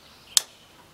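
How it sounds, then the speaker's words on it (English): A lubricant solenoid on a bandsaw mill gives a single sharp, close click over a quiet background. "On this button is the lubricant solenoid. You'll hear that click in."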